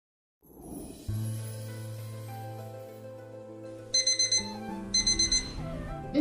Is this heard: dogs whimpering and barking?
no